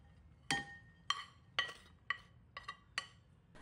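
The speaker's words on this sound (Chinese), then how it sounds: "用筷子快速且有节奏的搅拌" Chopsticks stirring cooked rice into beaten egg in a bowl, giving six or seven sharp, clinking taps in an irregular quick rhythm, close and clear over a quiet background.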